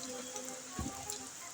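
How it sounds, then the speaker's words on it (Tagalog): Heavy afternoon rain pours down in a steady, dense hiss that holds evenly throughout, heard from a moderate distance with a soft low thump partway through. "Napakalakas ng ulan."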